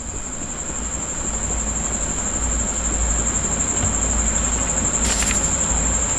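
A game train from Choo-Choo Charles rumbles steadily with a low continuous engine drone and a constant high whine, running alone without talk for several seconds.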